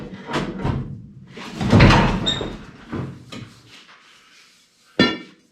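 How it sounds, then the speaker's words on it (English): A square-body pickup bed is shoved backward off its support blocks during bedside removal, giving scraping, thudding metal knocks spread across several seconds and ending in one sharp bang, with no talking. "I'm gonna try to slide this bed back."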